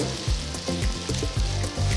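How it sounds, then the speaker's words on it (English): Oil sizzles and crackles as potato slices pan fry in a little oil, with a few soft scraping stirs breaking up the steady frying. "I'm not deep frying them, I'm just pan frying it with a little oil."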